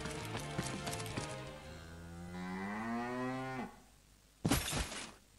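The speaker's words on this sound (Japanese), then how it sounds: "普通に牛の鳴き声とともに。" A cow moos in a long, drawn-out low call in the video game Saga Emerald Beyond, heard alone and fairly clear, followed by a brief loud thud.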